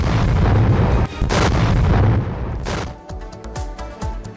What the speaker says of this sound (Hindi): लगातार बमबारी जारी है